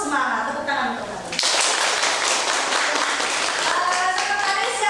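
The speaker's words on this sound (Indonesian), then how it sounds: "Tepuk tangan untuk kalian" Students in an Indonesian classroom clap for one another. A burst of dense, bright clapping starts after a teacher's voice and continues steadily close by, with talking audible underneath.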